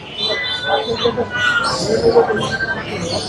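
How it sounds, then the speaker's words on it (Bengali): Cats meowing at a busy cat market in Mirpur 1, with repeated cries rising over steady crowd chatter and market bustle; people talk throughout. "শুধু বিড়াল আর বিড়াল, সেখানে খুব সুন্দর সুন্দর বিড়াল"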